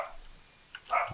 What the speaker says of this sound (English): Stupid dogs.